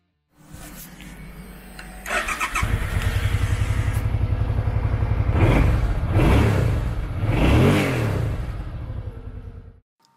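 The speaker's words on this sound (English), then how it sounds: "Powered by an 819cc V-twin engine" A 2009 Suzuki C50 Boulevard 800 with an 819cc V-twin starts up and idles with a lumpy, uneven beat, then gets two blips of the throttle that rise and fall, heard close with no talking.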